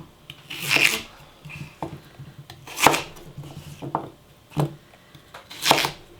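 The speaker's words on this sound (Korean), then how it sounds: "그래서 알맞게 썰어줍니다" Knife chopping potatoes on a cutting board while making Korean braised chicken, a few separate cutting strokes with rustling between, close and moderately loud, no talk.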